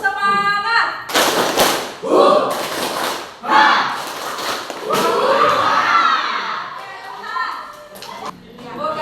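A group in an Indonesian teacher-training class performs a rhythmic spirit-clap chant, loud bursts of clapping and thumps alternating with shouted calls and voices, continuing in waves for several seconds.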